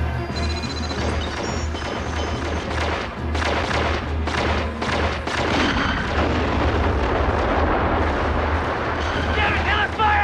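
Gunfire and explosions fill a 1994 action film battle scene, a dense, loud, continuous barrage with deep booms and crackling bursts, while voices shout over the din.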